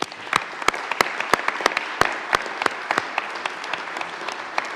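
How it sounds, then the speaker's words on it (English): A round of applause rings through a state senate chamber, a modest number of people clapping with sharp, distinct claps rather than a dense roar, steady across several seconds. "can we please give them a round of applause?"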